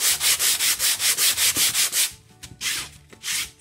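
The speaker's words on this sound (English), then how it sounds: "you can sand the canvas over just lightly to get a smoother surface" A canvas is sanded lightly by hand in quick, even back-and-forth strokes, a regular rhythmic rasp of about ten rubs followed by a pause and a few slower strokes, close and clear with no talk.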